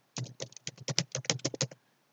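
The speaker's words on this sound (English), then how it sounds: "we might just type Google" Typing on a computer keyboard, roughly a dozen quick close keystrokes in an uneven rhythm over about a second and a half, alone in a quiet room.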